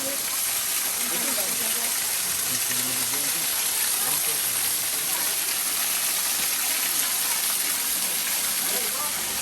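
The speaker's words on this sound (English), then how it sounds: "You can actually go behind this waterfall" Waterfall at Hanging Rock State Park in North Carolina pours with a constant broadband rush, loud and close, steady throughout with faint voices beneath.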